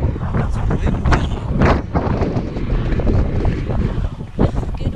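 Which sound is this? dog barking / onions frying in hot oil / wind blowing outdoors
wind blowing outdoors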